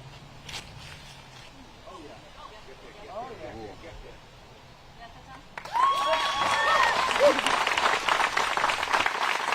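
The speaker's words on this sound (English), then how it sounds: "And you hear it from the crowd and her card mates." A crowd at the 2023 PDGA disc golf world championship breaks into loud cheering and applause partway through, following quieter outdoor murmuring and footsteps on a course, with voices mixed into the roar.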